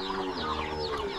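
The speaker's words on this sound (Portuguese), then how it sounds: "Ei, galinha briga." Chickens squabbling and clucking close by in a rural farmyard, a dense run of agitated clucks and squawks filling the whole moment without pause.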